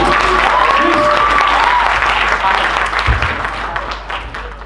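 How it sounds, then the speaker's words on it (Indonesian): A group applauds with sustained, close clapping that stays strong for a few seconds, then gradually thins and fades toward the end. "Keren, tepuk tangan tuh."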